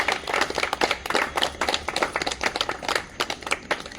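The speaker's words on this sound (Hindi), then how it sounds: "जोरदार तालियों से उनका भी स्वागत" An audience claps warmly to welcome a guest called to the stage at a theatre play event; many hands beat in a dense, steady patter of close, lively claps that holds for a few seconds.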